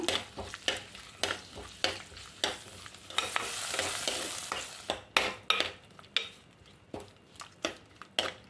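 Ginger, garlic, onion and sliced tomato sautéed in a pan, with repeated close scraping stirs over a steady sizzle that swells in the middle before the rhythmic strokes return.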